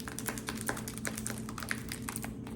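Rapid, uneven keystrokes on a computer keyboard, a close and fairly quiet stream of clicks with no voices.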